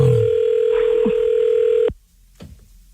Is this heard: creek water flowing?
no